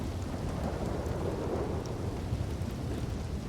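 A thunderstorm in a western roleplay video game: rumbling thunder rolls under steady rain, ending with a sharper crack of thunder close by, and no voices.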